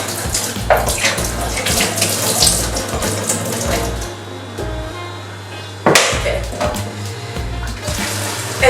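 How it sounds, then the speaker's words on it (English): Fresh water pours from a tap into a plastic bottle being upcycled into a plant mister, a steady splashing stream with a few knocks and clunks as the bottle is handled; talk runs over the water. "pour fresh water into your bottle."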